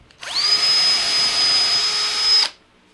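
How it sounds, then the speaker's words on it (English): Power drill boring holes into a Les Paul Junior guitar body for pickup mounting, one steady high-pitched whine spinning up, holding level for about two seconds, then cutting off, loud and close with no talking. "drill some holes"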